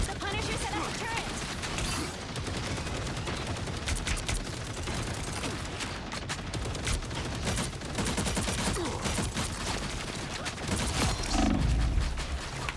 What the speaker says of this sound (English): The Punisher set up a turret.